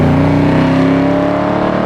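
A NASCAR-inspired Dodge Charger powered by a 472 Hemi revs loud and close, a deep sustained roar with rising pitch and no talking.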